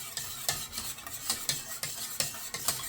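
Passion fruit custard stirred in a pot: a spoon scrapes and taps against the pot in a steady repeated rhythm, close and moderately quiet, with a faint hiss underneath.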